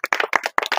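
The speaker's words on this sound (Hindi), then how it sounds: "आप सबसे एक बार फिर से अपील करूंगी कि इनके लिए जोरदार तालियां बजाएं" Sharp, close hand claps sound at an honoring ceremony. They come in quick rhythmic bursts with brief silent gaps, suggesting only a few people clapping nearby.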